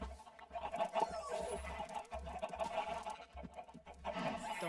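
Chickens cluck softly in a farm pen in the video game Minecraft, short irregular clucks over faint background sounds, with no talking.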